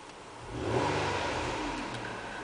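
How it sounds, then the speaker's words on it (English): A 2009 Nissan Maxima SV engine revs up, rising to a steady, louder drone before easing slightly, heard close with no talking. "Car is running right now. Keep an eye on the left-hand dial. I'm going to rev the engine."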